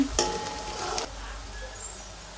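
Spices sautéing in hot oil for chole bhature give a short sizzle with a stirring scrape near the start, then settle into a quieter, steady hiss of frying.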